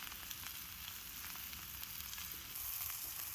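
Meat sears over an open cooking fire, a steady crackling sizzle close by with a slight swell near the end, no voices.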